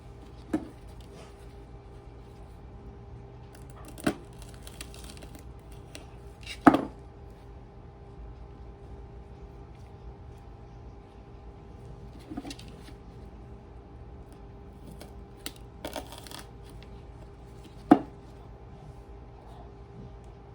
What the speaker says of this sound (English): you just repeat that step until you have cut all your peppers and put them on your tray